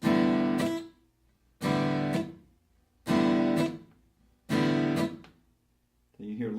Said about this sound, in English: If I didn't have my hand on the guitar, it would sound like this.